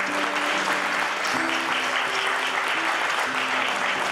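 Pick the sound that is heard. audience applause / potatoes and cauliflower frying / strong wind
audience applause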